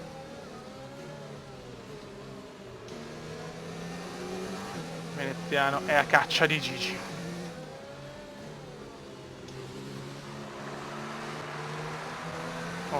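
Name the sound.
F1 race car engine revving, video game F1 2019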